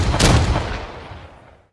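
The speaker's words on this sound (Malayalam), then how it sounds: "വെക്കടാ വെടി." A gunshot sound effect booms once through a dance school's annual day performance, a loud, broad blast with a rumbling low tail that fades over about a second and a half.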